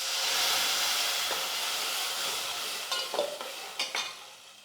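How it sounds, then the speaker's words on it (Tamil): Raw mango paste is sautéed in a pan with dry ginger, pepper and cumin, producing a broad steady sizzle with scraping spoon strokes toward the end. "இப்போ நம்ம மாங்காய் விழுது இது கூடவே சேர்த்து 1 நிமிஷத்துக்கு வந்து வதக்கிக்கலாம்."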